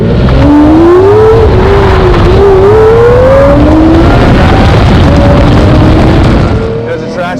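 A Lamborghini Murcielago accelerates hard through a corner, its engine note rising and falling loudly and close as it revs, with someone talking over it.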